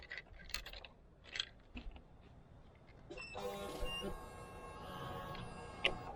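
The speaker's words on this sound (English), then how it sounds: "There's my fuel pump." A motorcycle's fuel pump primes with a steady mechanical whine and hum that starts about halfway through and holds to the end, after quieter clicks and handling noises.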